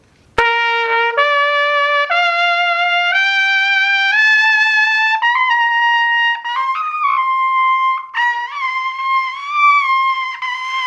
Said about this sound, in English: where I would pick up my horn after being warmed up and sound like this.